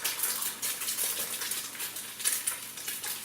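Duck egg dropped into a hot skillet, giving a steady, close crackling hiss of frying with faint clinks throughout; no voices.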